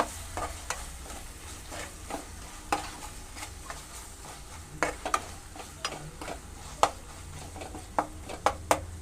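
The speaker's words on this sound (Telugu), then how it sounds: "ఇప్పుడు ఈ అల్లం వెల్లుల్లి పేస్ట్ కూడా పచ్చివాసన పోయేదాకా వేపుకోవాలండి" Ginger garlic paste fries in a pan with a soft, steady sizzle, while a spoon scrapes and clacks against the pan in irregular, close stirring strokes.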